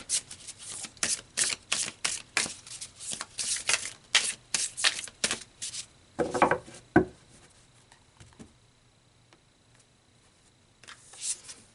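Tarot cards shuffled by hand, a close rapid series of riffling, slapping bursts followed by a few slower card pulls and a quiet pause.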